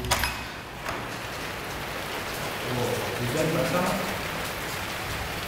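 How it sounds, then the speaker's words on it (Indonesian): Heavy rain pours steadily outside at night, a dense continuous hiss with a brief thump near the start, and faint voices underneath. "Ini kita lagi hujan deras juga di luar"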